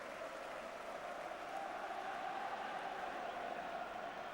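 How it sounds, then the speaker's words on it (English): Distant football stadium crowd applauding after the home side goes 2-0 up, a faint, even roar of clapping and crowd noise heard from afar on an old match broadcast. "And listen to the applause."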